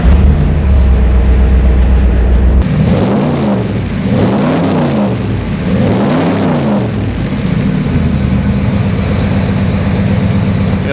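A 1967 A.C. Shelby Cobra rumbles at a deep idle, then its engine revs hard in three rising and falling bursts before settling back to a loud, throaty idle, recorded close with no talking.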